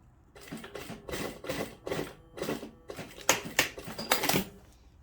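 A sewing machine runs in short bursts as it stitches the seam of a high-neck midi dress during an alteration that takes in the armholes. Rapid mechanical clatter comes close and fairly loud in several separate runs, with no talking.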